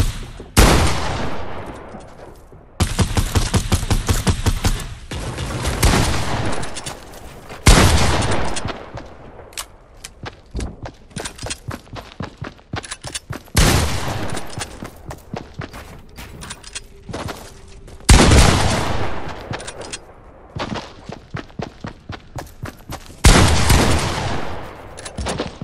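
Fortnite: Battle Royale gunfire from an infantry rifle, loud bursts of rapid shots fired in repeated volleys with short pauses between, close and dominant throughout.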